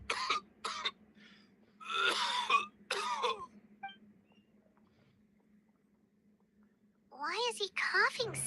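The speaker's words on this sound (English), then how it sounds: "Why is he coughing so much?" A male character in Genshin Impact coughs in several harsh, rasping bursts, some of them rapid and clustered, set against a steady low background hum. After a silent gap, the coughing fit resumes loudly.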